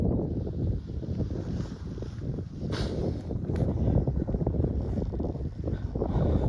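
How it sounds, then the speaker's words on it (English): A strong wind of about 14 knots blows against a guyed camping tent, producing a continuous loud roar and buffeting rumble with gusting swells close to the microphone. "now I've got quite a big wind blowing into that at the moment"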